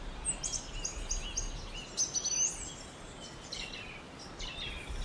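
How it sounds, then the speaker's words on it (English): Natural bird sounds fill a forest ambience, with repeated high chirps and tweets over a steady hiss of background noise, moderately faint and continuous with no talking. "do we like the natural bird sounds?"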